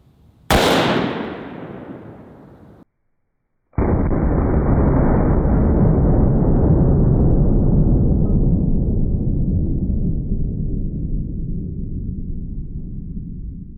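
A handgun fires a 240 grain hollow point bullet into a heart: one sharp, loud crack that decays quickly, then after a short silence a long, steady rushing roar that slowly fades.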